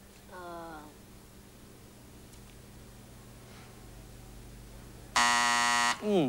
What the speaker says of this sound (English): You have to do it within the time before the buzzer rings.